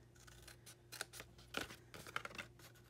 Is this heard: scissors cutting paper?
yes